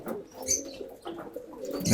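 Pigeons cooing at a loft, soft low repeated coos close by, with faint chirps and a hint of wing movement near the end.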